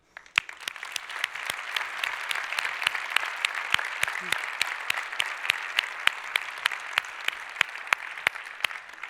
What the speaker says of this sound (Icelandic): við gefum honum gott klapp